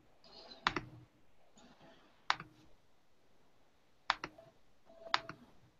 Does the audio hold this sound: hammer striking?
no